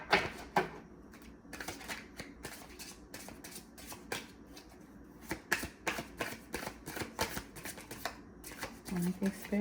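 Tarot cards shuffled by hand over and over, a close run of crisp, irregular snaps and flutters with brief gaps, and a voice speaking faintly underneath.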